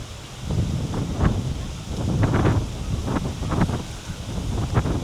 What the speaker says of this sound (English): Oh, the wind's picked up. Strong breeze, very strong wind.